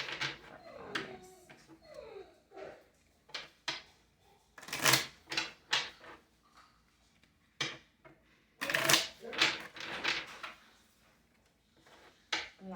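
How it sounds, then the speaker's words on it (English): A deck of tarot cards is shuffled close up in bursts of crisp riffling and slapping, with quiet pauses between, faint and alone. "Last shuffle."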